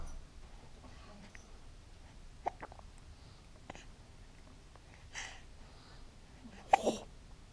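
Several small, sharp hiccups spaced irregularly in a quiet room, the last one loudest.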